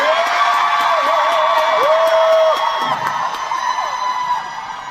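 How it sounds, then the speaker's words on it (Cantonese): A live concert crowd at a New Year's Day show in Kowloonbay cheers and whoops steadily, a loud, sustained roar with a sharp whistle that fades slightly toward the end. "我覺得掌聲或者呼聲唔止咁少啊！"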